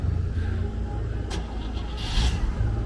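A classic car engine idling with a low, steady rumble, close by at a cars and coffee meet, with a couple of brief higher whooshes passing over it.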